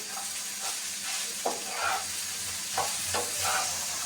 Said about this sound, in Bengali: এখন পরিমাণ মতো লবণ দিয়ে দিব দিয়ে আবার মিশিয়ে নেব